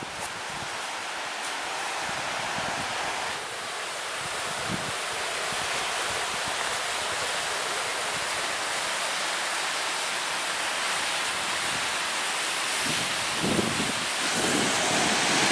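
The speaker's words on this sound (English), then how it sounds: "Some good sized waves coming in on the shore." Steady broadband roar of surf breaking on a Lake Superior shore at Pictured Rocks, Michigan, with gusting wind buffeting the microphone throughout; no voices.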